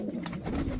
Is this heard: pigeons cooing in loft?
yes